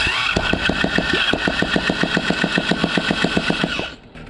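A GIO engine cranks on its starter, trying to start: a loud, fast, regular chugging pulse that runs for several seconds and then cuts off abruptly, leaving near silence.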